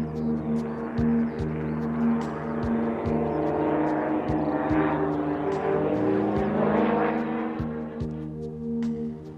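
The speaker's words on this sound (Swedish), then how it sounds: "Fram till 1970 kunde man njuta av det härliga ljudet från Lycoming-motorn när flygeleverna övade i sina sektorer över Ljungbyhed." A Lycoming piston engine powers a training aircraft flying practice sectors over Ljungbyhed. It gives a steady, droning propeller hum with a faint regular ticking that runs the whole time, with no voices.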